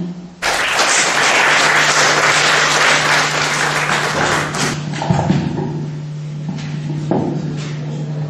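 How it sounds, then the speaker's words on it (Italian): Loud, sustained applause from an audience at a book presentation event, a dense wash of clapping that carries for several seconds before thinning out, with a steady hum underneath and a few scattered thumps near the end. "Facciamo ancora un applauso alla voce di Lucia Lambra"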